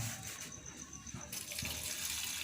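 Rice washed by hand in a pot of water before cooking over a charcoal stove, giving a continuous close splashing and sloshing wash with a brief trickle.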